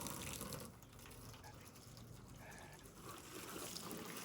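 Water from a hose or tap floods over a car's painted panel during a water-spot test, a steady broadband rush and splash that runs continuously and close throughout.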